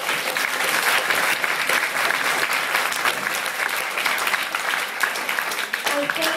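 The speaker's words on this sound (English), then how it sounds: "please give them another round of applause for their work" Sustained audience applause fills a debate hall after a round of speeches at the Grand Final of a debating cup, dense steady clapping throughout with a brief voice emerging near the end.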